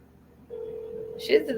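A telephone call is placed: a steady single tone holds for about a second, then brief dial-like chirps follow, fairly close and clear.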